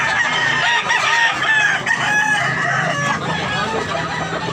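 Several roosters at a fighting-cock farm in Tabunok, Cebu crow loudly and repeatedly, overlapping calls and clucks filling the air close by.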